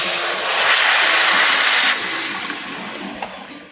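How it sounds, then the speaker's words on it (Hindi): Water poured into a pan of besan gravy masala cooked with mustard, a steady broad rushing pour lasting about two seconds and then easing to a softer splash and sizzle. "अब हम इसमें पानी डालेंगे।"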